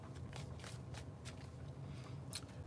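Tarot cards being shuffled by hand in a quiet room, a rapid papery riffling with several brief bursts of flicking and snapping over a low steady background hum, no voices.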